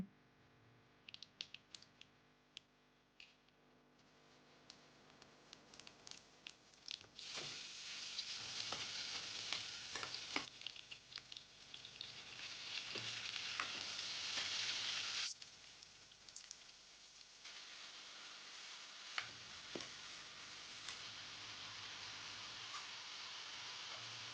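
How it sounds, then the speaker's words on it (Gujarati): Chopped ridge gourd being tempered in a pan hisses and sizzles steadily, louder in the middle stretch and quieter near the end, with scattered light clicks and stirring scrapes and no voices. "તુરિયા કટ થઈ ગયા છે અને હવે એને વઘારવાના છે"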